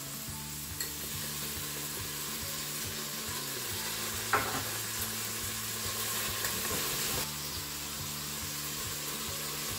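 Garlic and herbs frying in a Crockpot Express pressure cooker on its sauté setting, giving a steady, close sizzle throughout with a few brief stirring scrapes. Background music plays underneath.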